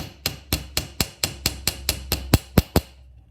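A hammer strikes a rivet to flatten it, eleven sharp, evenly spaced metallic blows over about three seconds, close and crisp, the last few landing harder.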